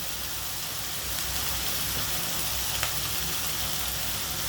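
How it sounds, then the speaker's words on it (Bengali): Onion, green chili and ginger frying in mustard oil give a steady, close sizzle with a faint stir or clink near the end and no voices. "সরিষার তেলের মধ্যে পেঁয়াজ দিয়ে দিলাম, ওটা কাঁচামরিচ দিয়ে দিলাম"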